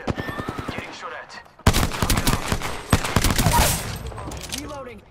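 Gunfire in the Apex Legends battle royale, starting with a run of sharp single shots and then a loud, dense stream of automatic fire at close range, with brief voice chatter in the mix.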